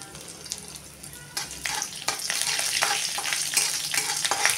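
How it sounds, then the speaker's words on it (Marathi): Finely chopped ginger and garlic sautéing in a pan, a soft crackle that swells into a bright, continuous sizzle with stirring scrapes as the pan heats up; nobody speaks. "आता थोडा वेळ परतून घ्या।"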